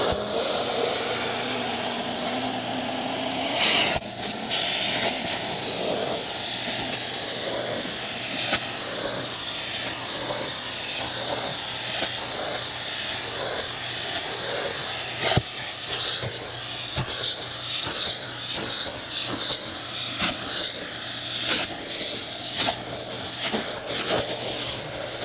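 A carpet cleaner hose working over carpeted stairs gives a continuous loud hissing, spraying rush with repeated brief bursts and strokes, alone without voices.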